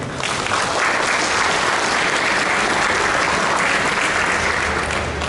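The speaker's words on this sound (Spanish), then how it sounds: "recibámosla por favor con un fuerte aplauso." Strong, steady applause from an audience at an academic book presentation, a dense continuous roar of clapping lasting throughout.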